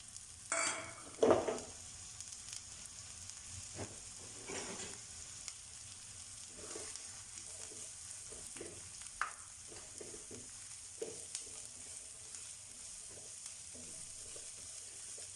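Finely chopped onion frying in hot oil for samosa filling, a quiet, steady sizzle with a sharp louder burst as the onion goes in, followed by occasional stirring scrapes.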